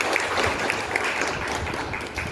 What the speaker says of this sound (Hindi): प्लीज तालियों स्वागत कीजिए उनका